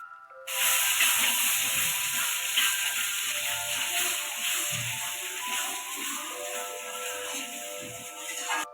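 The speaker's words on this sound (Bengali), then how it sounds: "এটা আদা বাটা দিচ্ছি" Ginger and cumin paste hits hot oil in a pan, producing a loud, continuous hissing sizzle that holds steady throughout with faint clatter underneath.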